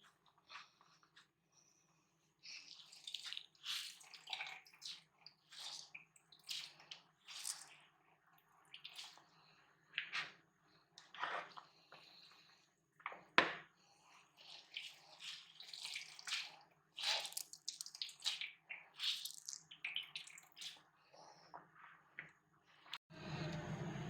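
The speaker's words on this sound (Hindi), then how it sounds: "ऐसे ऐसे दबा के इसका अच्छी तरह पानी निकालेंगे।" Grated radish for paratha is squeezed by hand, giving soft wet squelches and trickling water in irregular bursts, close and fairly quiet, with brief pauses between squeezes.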